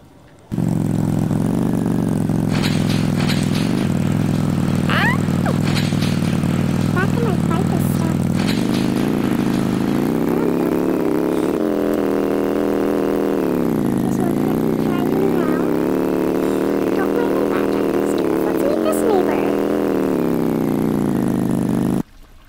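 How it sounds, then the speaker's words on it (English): A video game moped's small motor engine drones steadily throughout, its pitch rising and dipping slightly as it revs, with faint higher chirps over the top. "let's go hop on the moped"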